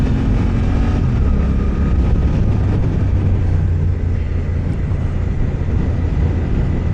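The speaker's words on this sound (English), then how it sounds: "a lot of mid-range grunt from that long stroke twin engine" Suzuki GSX-8R motorcycle with a long-stroke twin engine being ridden, a loud, steady low engine drone with wind rumble that holds continuously throughout, with no talking.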